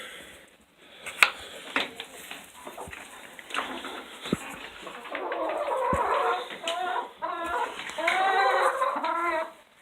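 Backyard hens cluck and murmur up close while being tossed bread scraps, their soft, uneven calls building into a busier, excited chatter of several birds toward the end.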